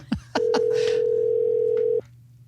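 A landline telephone gives a steady dial tone that holds for about a second and a half, loud and close, with a click before it and faint sounds around it.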